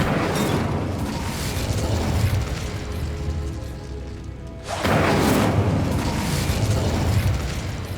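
An Incendio fire spell in Hogwarts Legacy gives a loud whooshing, crackling roar of flame. The sound holds steady, dips briefly near the middle, then surges again with a fresh burst.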